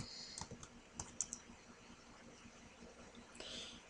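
An out-of-character chat command being typed on a computer keyboard for the online game Planets: Rise to Power, with quick, close clicky keystrokes in short clusters followed by a faint rustle and hiss.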